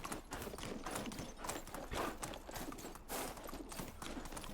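A horse gallops in a video game, with steady, rhythmic clip-clop hoofbeats at moderate volume throughout.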